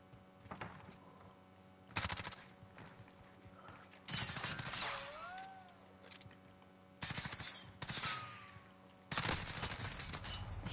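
Video game gunfire comes in four separate sustained automatic bursts, each lasting about a second or two, divided by short quiet gaps. The shots are sharp and rapid, with a faint electronic whistle between bursts.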